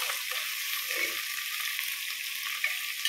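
Onions sizzle steadily in hot oil in a pan, stirred now and then while being fried as the base of a desi-style chicken curry; a constant, close frying hiss with soft scraping.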